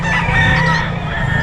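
Chickens and roosters at a crowded pet market in Bocaue, a loud, near, dense mix of clucking and crowing that fills the brief moment with no pause.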